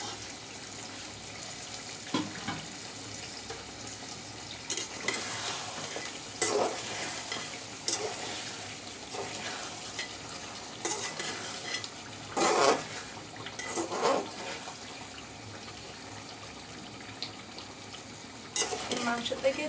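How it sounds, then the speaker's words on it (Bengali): Sonali chicken stir-fried in its own released water: a low, bubbling sizzle broken by intermittent scraping stirs, close but fairly quiet. "মাংস থেকে যে পানিটা বের হয়েছে ওইটা নিয়ে আমি কষিয়ে নিচ্ছি"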